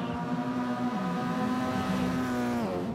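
A Mitsubishi Evo X race car on a track holds a steady, droning engine note whose pitch stays level, then drops near the end as the driver slows, with no talk heard.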